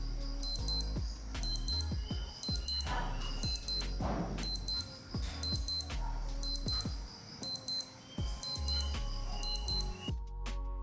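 Repeated bursts of high electronic beeping from a Skmei 1412 digital watch alarm in a steady pattern, loud and close, with faint background clatter between the bursts.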